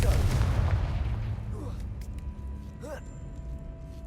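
Confringo fire spell exploding in the Hogwarts Legacy video game, a loud deep boom at the start that rumbles and fades, followed by creaks and a brief voiced sound.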